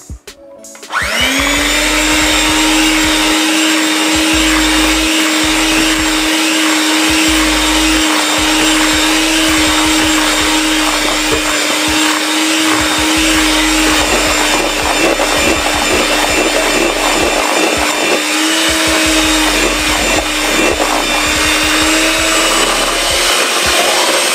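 An electric mixer whisks dark Jamaican black fruit cake batter for a wedding cake, giving a loud, steady motor whir that runs unbroken nearly the whole time with a faint scraping texture.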